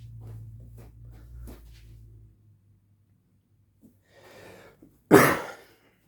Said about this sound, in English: Sorry if I cough a lot.